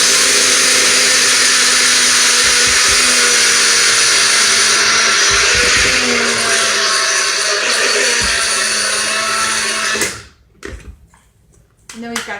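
A grinder whirs steadily at full power while grinding flaxseed for a low-carb recipe, a loud, continuous motor drone lasting about ten seconds before it cuts off.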